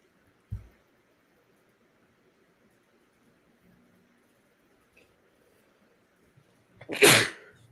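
A single loud, close sneeze bursts out near the end after long near-silence, preceded by a soft thump early on.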